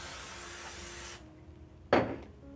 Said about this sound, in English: I'm going to spray my waffle maker.